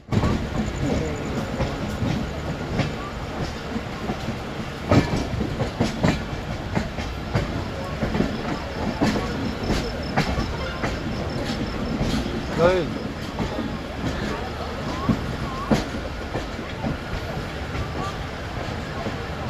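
Howrah Puri Superfast Express train running between Cuttack and Bhubaneswar, heard from on board: continuous rumbling roll with irregular clicks and clacks of wheels over rail joints, fairly loud throughout.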